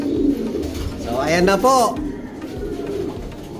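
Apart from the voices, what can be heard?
pigeons cooing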